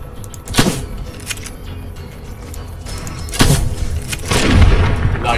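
A crafted gun firing in Fallout: New Vegas, with a few loud, booming shots spaced seconds apart over a rumbling game background.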